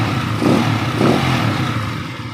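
A TMX155 motorcycle engine, just fitted with new timing gears and black piston rings, revs in two quick throttle blips before settling back to a steady mid-pitched idle, close and fairly loud.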